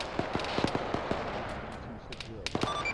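Gunfire during a military heliborne assault exercise, with crisp popping shots in scattered bursts, somewhat distant, over background noise and a voice.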